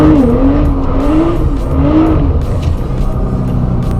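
A supercar power sliding on a wet road in an industrial area, with a continuous loud engine roar and a wavering tire squeal as the car drifts, no talking.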